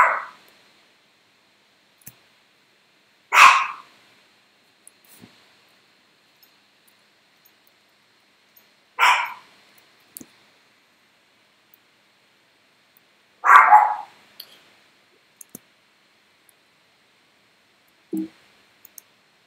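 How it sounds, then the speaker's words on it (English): Dogs barking at children dropped off by school buses, a few separate short barks spaced several seconds apart against near silence. "So, they're barking at the kids."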